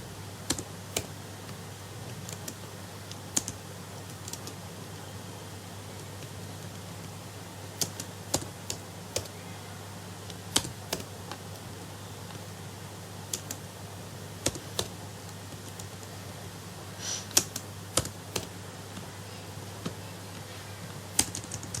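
Keys tapped on a computer keyboard to enter a menu choice, scattered sharp clicks in irregular bursts over a steady low hum, fairly close and quiet, with no talking.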